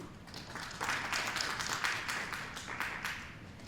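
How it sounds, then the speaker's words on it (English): Board members applauding Dr. Lula Moore at a school district board meeting. A small group claps steadily for a few seconds at moderate, somewhat distant loudness. "Board members, let's give her a round of applause."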